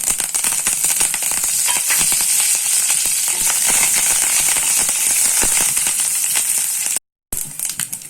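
Dried red chillies and curry leaves frying in hot oil with mustard seeds make a dense, continuous crackling sizzle with rapid pops, close and loud. It cuts out briefly near the end, then resumes.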